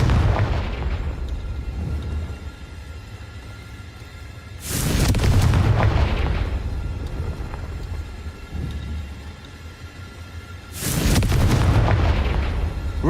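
Confringo fire spell explosions from Hogwarts Legacy go off in two loud booming bursts, each a broad rumbling blast lasting over a second, set against a steady low background rumble with no talk.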